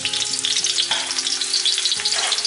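Ginger slices dropped into hot oil in a heated wok, a loud, dense, continuous sizzle with fine crackling close up and no voices.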